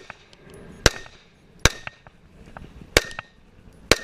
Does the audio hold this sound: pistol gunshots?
yes